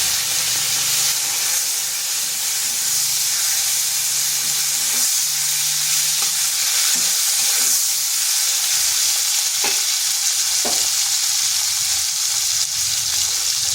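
A tomato fries in hot oil with bay leaf, cardamom and cinnamon pieces for a vegetarian potato and eggplant curry, making a steady, loud, close sizzle with a few soft stirring knocks.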